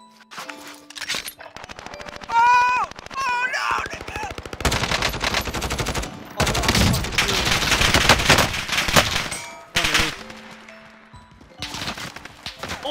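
Automatic gunfire in the video game Modern Warfare comes in long, loud, rapid bursts separated by brief pauses, with electronic game sounds between the volleys.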